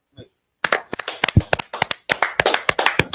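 Hands clapping in a religious celebration gathering, a quick series of sharp, loud, close claps in an uneven rhythm, with a brief pause near the start.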